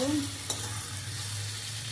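Meat sizzles in a pan while being stirred, a steady fry hiss with a sharp utensil clink near the start and a low hum underneath.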